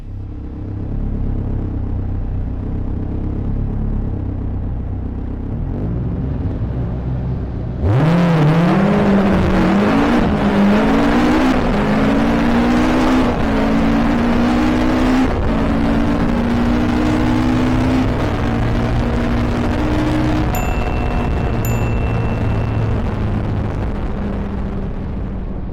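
A kit car launches on a quarter-mile drag strip, a loud, rising engine roar climbing through the gears after a rumbling idle, sustained and close for the rest of the run.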